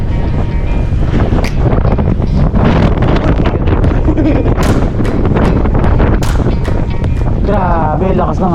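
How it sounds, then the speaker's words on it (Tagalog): Strong wind roars and buffets loudly against the microphone throughout during a bike ride in Maliko, with faint voices and brief rustles underneath. "Grabe, lakas ng hangin."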